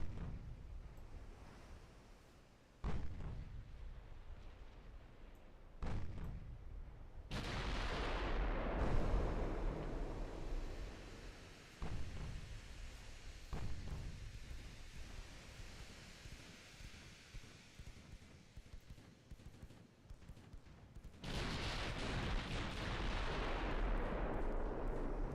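Naval guns fire repeated salvos in the warship game Ultimate Admiral Dreadnoughts, each a heavy booming blast with a long rumbling decay, about six shots spaced several seconds apart over a low wash of noise.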